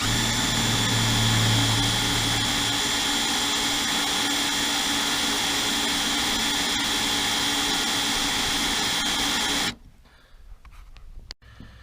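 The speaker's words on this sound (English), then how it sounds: "let's punch a couple mounting holes in this thing." A power tool runs loud and steady for about ten seconds while mounting holes are punched through metal, then cuts off abruptly, leaving faint clicks and handling noise.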